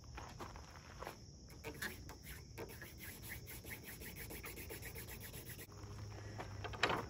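Hand drill friction fire: a soaked horseweed spindle rubbed against a tulip poplar board, giving faint, steady scratchy rasping strokes in a quiet outdoor setting with insect chirps behind it.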